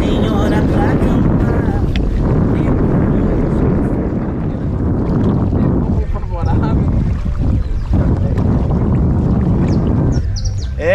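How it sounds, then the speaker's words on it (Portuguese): Strong wind buffets the microphone on a riverbank during wild tilapia fishing, a loud continuous roar with rushing gusts and water noise, and someone talks intermittently underneath. "Olha só, ventania."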